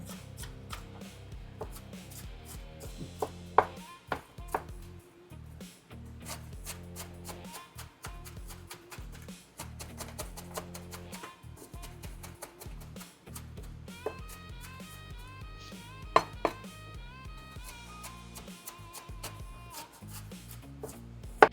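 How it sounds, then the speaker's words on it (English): Knife chopping an onion into small squares on a board, a steady run of quick close taps and soft thuds repeating throughout, set against a dense background of music. "let's get to the rest of the onion. Hey, while I'm cutting this thing"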